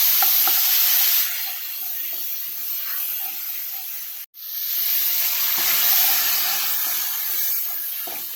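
Boiled dal is tipped into sizzling spiced oil with turmeric in a pot and stirred, giving a loud, steady frying hiss with soft scraping and a brief cut-out partway through, with no voices.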